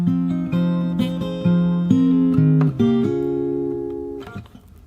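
Fingerstyle acoustic guitar plays a chorus variation of a song, with steady plucked notes and shifting bass, ending on a held chord that rings out and fades, close and unaccompanied.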